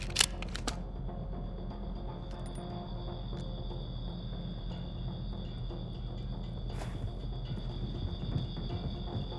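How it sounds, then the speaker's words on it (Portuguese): Weapon reload in Call of Duty: Modern Warfare 2 (2022), a quick cluster of metallic clicks and clacks at the start over a steady game ambience with a constant high tone and occasional faint ticks. "Recarregando."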